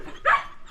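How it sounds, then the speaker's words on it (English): A single short bark rings out from a dog in a yard of kennels full of dogs, sharp and fairly near, standing alone against quiet background. "kennels full of dogs"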